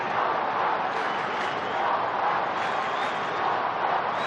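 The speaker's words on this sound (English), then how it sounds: "this crowd now making plenty of noise" A large crowd at an AFL football match between the Kangaroos and Fremantle in 2003 roars continuously, a broad, even wash of cheering that holds steady throughout, distant and enveloping, late in the game.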